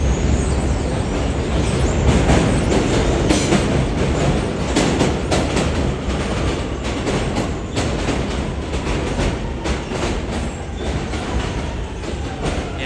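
A train rolls past in Ozone Park, loud and close, with a steady rumble and rhythmic clickety-clack of wheels over rail joints that keeps going throughout.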